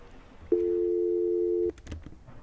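Telephone busy tone after a caller hangs up on a radio call-in line: a single loud, steady tone holding for just over a second, then a few faint clicks and rustles with no talk.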